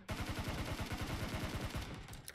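Rapid automatic gunfire from a player firing in the PUBG video game, a dense close burst of evenly spaced shots running almost continuously through the clip.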